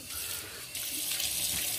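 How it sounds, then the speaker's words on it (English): Cold tap water runs steadily into a bathroom sink during face rinsing after a shave, a close, continuous splashing hiss that grows slightly louder partway through. "Let me rinse my face."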